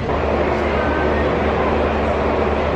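A driverless Dubai metro train rumbles loudly and steadily, a continuous close-up roar of rail travel with no voices.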